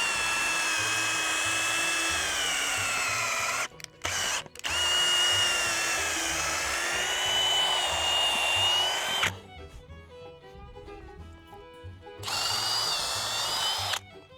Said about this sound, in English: All right, we've drilled our holes.